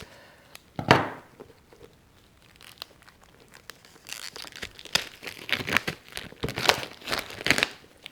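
A watercolour paper pad, a 20-sheet block of 300 gram cotton paper, is opened from its packaging with loud crinkling and tearing, one sharp rip early and then a busy run of rustles and crunches, close up with no talking.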